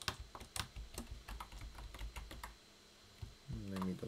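Rapid clicking keystrokes on a computer keyboard as a password is entered while installing Kali Linux in VirtualBox, quick irregular taps that pause briefly before a short voiced sound at the end.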